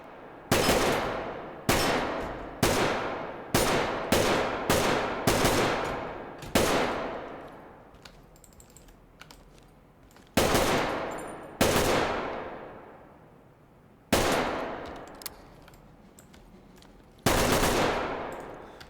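Semi-automatic rifle fire in the tactical shooter game Ready Or Not: loud, close single shots in uneven bursts and spaced pairs, each with a sharp crack and a decaying echo tail.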